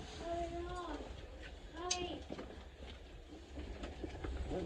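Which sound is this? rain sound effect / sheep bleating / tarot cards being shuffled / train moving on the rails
train moving on the rails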